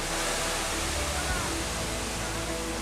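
Small waterfalls and rapids make a steady, broad rushing roar, continuous and fairly loud throughout.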